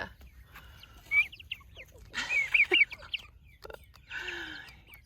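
A pet chicken or rooster gives several short clucks and chirpy calls in bursts, fairly close and moderately loud against a quiet background.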